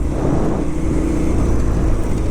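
A KTM 990 Adventure motorcycle engine drones loudly and steadily while riding off-road through fields and forest in low gears, with wind and road noise mixed into the continuous close rumble.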